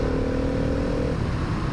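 A supermoto motorcycle rides over a gravel road, its engine a steady, close drone with a rough, grainy texture and a humming tone that fades slightly partway through.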